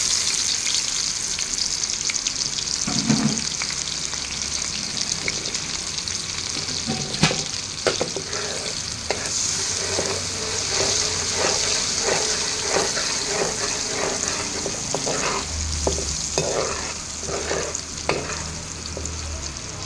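Sliced onion, cloves and cinnamon fry in a pan with a loud, continuous sizzle. Repeated stirring scrapes punctuate the sizzle as the pan is worked.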